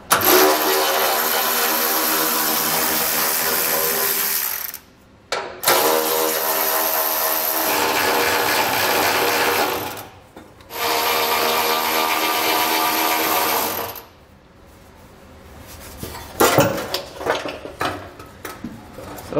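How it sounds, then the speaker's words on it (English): A 10 millimeter socket on a power tool removes bolts under a truck bed during an underbed gooseneck trailer hitch installation. Three sustained, loud whirring runs are separated by brief stops, followed by scattered clicks and clanks. "So we're gonna take a 10 millimeter socket and get all of those removed."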